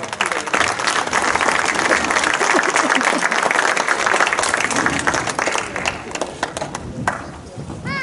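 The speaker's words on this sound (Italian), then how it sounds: "Grazie, un applauso." Audience applause at an award ceremony for the Premio Leuca, 13th edition, a dense steady clapping from a crowd that carries on throughout and thins slightly near the end.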